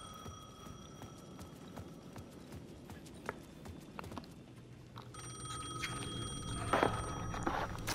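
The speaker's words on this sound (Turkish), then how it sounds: "telefon çalıyor." A payphone rings in Alan Wake 2, a faint tinny electronic trill that swells and grows clearer toward the end over a low ambient rumble and scattered clicks.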